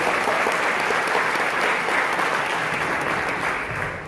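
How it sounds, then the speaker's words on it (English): Full audience applause at an off-Broadway music show: a dense, sustained wash of many hands clapping, loud and even throughout before easing slightly at the end. "Can I give a round of applause for Bob and his crew?"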